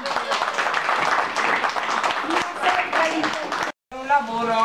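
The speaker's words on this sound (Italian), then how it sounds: "Grazie, un applauso." An audience at an Inter Club charity cheque presentation breaks into brisk applause, dense clapping mixed with chatter for several seconds before a short silence and then a voice speaking.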